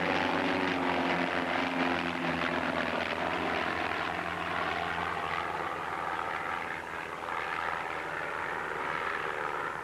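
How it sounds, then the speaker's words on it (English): A Pitts Special aerobatic biplane drones overhead at a 1980s UK airshow, its propeller engine a steady, fairly loud buzzing roar that holds level, heard alone without talk. "The Pitts Special, which flies equally well inverted as the right way up, is also the plane selected by the Marlboro Aerobatics team."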